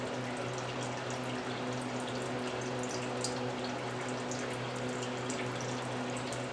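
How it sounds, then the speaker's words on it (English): Coolant drains from the radiator of a 2004 Subaru STI during a thermostat replacement, a steady, fairly loud trickling wash of liquid that runs unbroken with no talk. "It's still draining just a little bit from the radiator."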